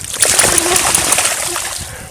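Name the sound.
dog swimming and splashing in a river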